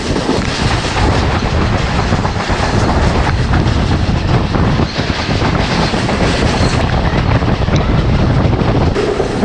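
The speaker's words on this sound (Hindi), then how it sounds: "ये बहुत स्लो हो गई है हमारी ट्रेन" A passenger train on the Awam Express route rolls over the rails near the microphone, a loud continuous rumble and rattle with rhythmic clickety-clack and gusts of wind, and nobody speaking.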